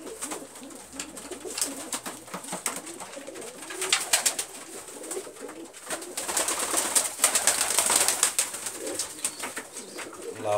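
Pigeons in a loft chase each other, cooing steadily and close by in a dense, continuous stream of calls with no talking.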